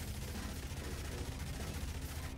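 Minigun fire from a tank character in the zombie survival roguelike game, a dense, continuous low rattle held at steady loudness the whole time with no pauses.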